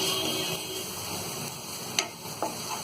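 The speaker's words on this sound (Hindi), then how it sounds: "इसको भी थोड़ी देर फ्राई कर लेंगे, थोड़ा अच्छे से मिक्स कर लेंगे" Maggi tastemaker masala fries in a pan, a steady hiss of sizzling with a couple of sharp ticks from stirring, close by.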